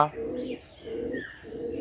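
Pigeons on a small pigeon farm stocked with five pairs coo close by in three soft, drawn-out phrases with short gaps between them, against a quiet background.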